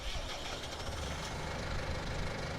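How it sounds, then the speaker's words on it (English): Stara tractor engine in Farming Simulator 19, a steady mid-pitched rumbling drone running continuously at close range, no voices. "That one just sounds like a tractor."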